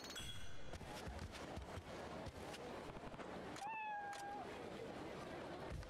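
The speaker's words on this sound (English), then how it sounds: "Adorable little white cat." A little white cat in the video game Like a Dragon: Ishin! gives a single clear meow partway through, rising then falling, over steady game background noise.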